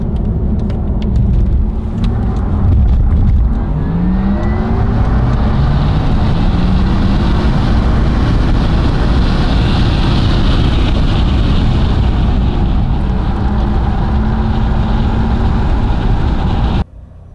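Porsche Taycan Turbo electric car lapping a race track, heard from inside as a loud rush of tyre and road noise with a rising electric motor whine under acceleration, ending abruptly.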